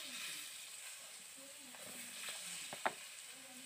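Pointed gourd pieces being stirred and fried in a pan, a faint, low hiss of frying with soft scraping and one brief sharp clink near the end.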